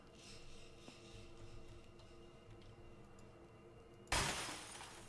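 In a video game, a shop window shatters in one sudden loud crash of breaking glass after a stretch of quiet ambient hum, the debris trailing off briefly.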